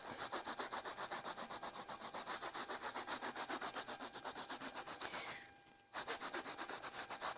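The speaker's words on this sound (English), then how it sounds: "using the clean cloth, I'm going to help work that in a little bit further. This is also going to buff it." Cloth rubbing paste wax into a wooden jewelry chest, a steady rhythmic back-and-forth buffing with quick regular strokes, close and continuous, pausing briefly before resuming.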